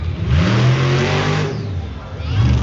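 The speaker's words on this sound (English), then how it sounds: "He's getting some high RPM into those jumps." A monster truck engine revs hard at high RPM during jumps at a summer arena show in Evansville, rising and falling in pitch with a roaring, growling surge, loud and close, dipping briefly before climbing again.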